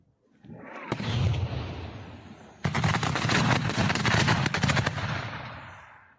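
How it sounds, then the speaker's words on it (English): A cluster munition detonates near a Russian bunker in Ukraine war footage, loosing a rapid crackling string of sub-munition blasts in two loud bursts, the second longer and denser, fading into a rumble. "a Ukrainian cluster round lands like just 50 yards away"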